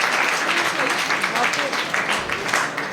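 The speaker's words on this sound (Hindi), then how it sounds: "चलिए जोरदार ताली बजाइए" Loud applause from a classroom of students at an English coaching class in Motihari, dense steady clapping throughout with a voice speaking briefly over it.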